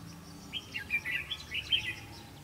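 A red-whiskered bulbul calls during trapping, giving a string of bright, quick chirps in several short bursts over a quiet outdoor background.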